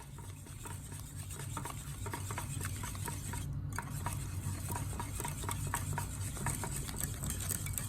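Eggs and cider vinegar being mixed for a low-carb flourless chocolate cake, with a steady scraping, stirring rasp running throughout and a brief pause near the middle.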